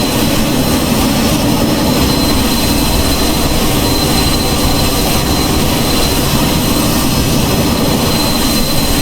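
Embraer Phenom 100 jet engine in Microsoft Flight Simulator VR, a loud, steady, unbroken roar and whine with a faint high tone running through it, alone without any talk.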